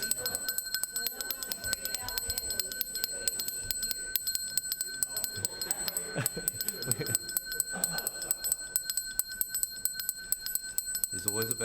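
Backup division bells ring steadily through a Brisbane City Council chamber, a continuous bright electric ringing that lasts the whole stretch. Voices murmur faintly underneath.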